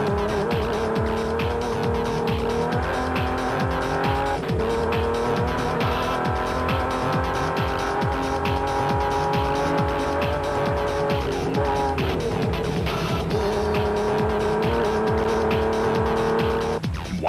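Rally cars in the Amathole rally of 2007 roar past a roadside vantage point, engines loud and steady with rising and falling revs and no talk.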